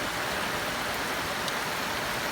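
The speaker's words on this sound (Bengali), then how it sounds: "বৃষ্টির যে রিমঝিম শব্দ" Rain patters on a tin roof beside rice fields in Dinajpur, a steady close wash of fine drops with a few brighter ticks and no speech.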